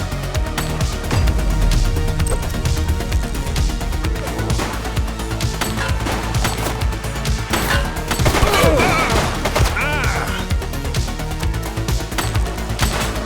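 Dense gunfire during a police shootout in The Precinct, continuous crackling shots and impacts over background game music and clatter, loud and sustained throughout.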